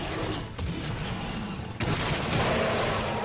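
Bowgun rounds fired in Monster Hunter 3 Ultimate, a few booming shots with sharp onsets breaking through a dense, continuous rumble of game noise.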